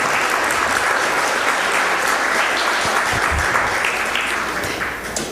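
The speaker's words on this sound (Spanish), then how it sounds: "despedimos con un aplauso a las personas que han estado en este" Sustained audience applause at the close of an opening event at a forum in Chihuahua, dense steady clapping from a crowd that carries on for several seconds before easing off slightly at the end.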